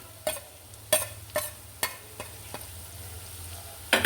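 A spoon stirs masala frying in a pan for a seer fish pickle with sliced green chilies and turmeric, giving sharp intermittent scraping knocks over a low continuous sizzle.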